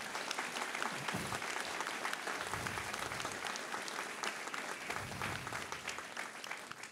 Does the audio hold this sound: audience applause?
yes